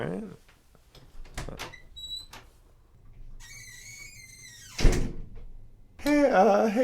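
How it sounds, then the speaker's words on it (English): A door is opened for an arriving visitor, with a squeak and a thunk among light handling noises, followed by a burst of voices in the room. "Let me get the door"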